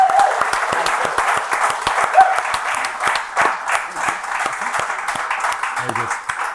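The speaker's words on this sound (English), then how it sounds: "we just need to end with a lovely round of applause for Kerttu" Audience gives a warm round of applause for a talk by Kerttu of Lucky Saint alcohol-free beer, dense steady clapping close and sustained throughout, with a voice faintly underneath.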